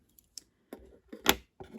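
Scissors snip through crochet yarn while binding off a granny square, a few short, quiet clicks and cuts spaced irregularly, the last ones a little louder and close by.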